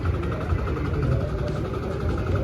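A Sonalika tractor engine runs steadily at an agricultural exhibition, giving a continuous low idling rumble with a mid-range drone and no clear revving, loud and close throughout.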